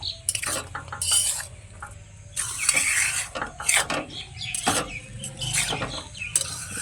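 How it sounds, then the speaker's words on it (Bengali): Poha with chopped coriander tossed in a pan, close scraping and clinking of a spatula against metal in irregular bursts, with rustling between strokes. "দুই সেকেন্ডের মতো নেড়ে চেড়ে নেব।"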